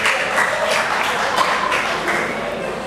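A small church audience applauds inside the building, a soft, fairly faint patter of clapping that carries on steadily for a few seconds.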